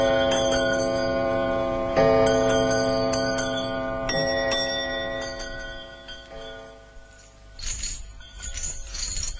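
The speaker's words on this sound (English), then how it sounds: "Now it began to ring, and every bell in the house rang loudly for about a minute." Several house bells ring loudly and overlapping for a long stretch, tones sustaining and restruck repeatedly, then fading into a jangle of fainter chimes.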